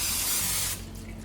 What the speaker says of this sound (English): I'm gonna spray it with a little cooking spray.